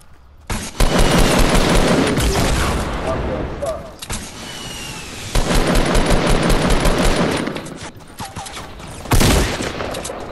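Rapid bursts of gunfire in Fortnite on PS4 during a Season 3 squad match, loud, close automatic volleys repeating in clusters with a voice talking over them.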